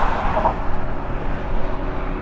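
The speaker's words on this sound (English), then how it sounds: "So the whole bridge is shaking with the cars driving by." Traffic rolling across the tallest bridge in California, a steady broadband rumble of passing cars with no clear individual pass-bys, continuous and moderately loud.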